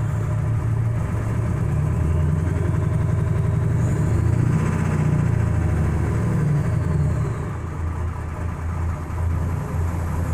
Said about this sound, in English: I'm gonna slowly give it a little rev